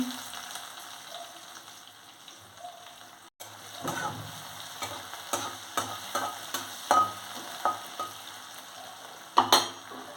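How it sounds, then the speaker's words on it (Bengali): Chopped onion and cumin frying in hot oil in a pan, a soft steady sizzle broken by repeated scraping stirs that grow more frequent, with a brief pause early on and a sharper clatter near the end. "জিরে এবার দিচ্ছি পেঁয়াজ কুচি"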